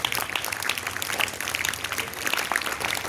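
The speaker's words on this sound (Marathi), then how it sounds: "आपण फादरांसाठी एक टाळी पहिल्यांदा वाजूया सगळेजण" A school audience claps for their principal, Father Anthony, a scattered but continuous patter of many hands lasting about three seconds, moderately loud and without voices over it.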